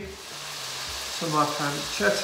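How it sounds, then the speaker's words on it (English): Spaghetti tossed into a hot pan with pancetta for carbonara sizzles and crackles steadily, close and fairly loud, while someone talks over it. "That's the sound of it sizzling."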